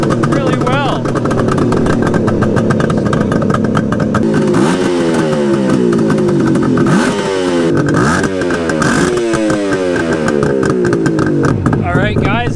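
A Suzuki GT550 two-stroke triple motorcycle engine runs loud and close after an electric start, with a steady buzzing idle and repeated rising and falling revs throughout.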